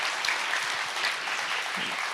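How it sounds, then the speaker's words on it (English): Steady applause from an audience at a hackathon project presentation and awards ceremony, honoring the team coaches; dense, even clapping fills the space at moderate, slightly distant volume. "I would like to have another round of applause to the team coaches"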